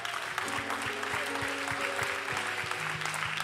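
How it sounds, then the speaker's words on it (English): A church congregation claps along in a steady rhythm over organ or keyboard chords that hold through the whole stretch, the claps even and moderately loud, with no voices standing out. "can we give the Lord a big hand clap?"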